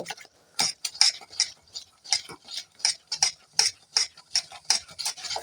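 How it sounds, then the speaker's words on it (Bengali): Dry ingredients, including salt, are rubbed and mixed by hand in a bowl for Mughlai paratha dough, making about a dozen rhythmic, close scraping strokes with short pauses between them. "এবার এগুলোকে আমি ভালো করে মিশিয়ে নেব শুকনোটাকে এইভাবে ভালো করে প্রথমে আমি মাখিয়ে নেব"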